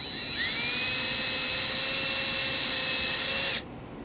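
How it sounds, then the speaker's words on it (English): Power drill boring a 3/32-inch pilot hole into a sheet-metal car panel on a 2015 Dodge Journey, a steady high whine held for about three seconds before cutting off abruptly. "we're going to drill a 3/32 pilot hole in this spot"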